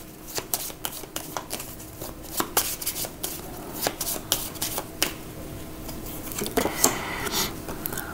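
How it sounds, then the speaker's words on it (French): Tarot cards are shuffled and drawn close by, with a rapid run of crisp flicks and riffles, soft slaps and small taps as cards are set down, and no talking. "nous allons sortir aussi une carte pour cette phase lunaire"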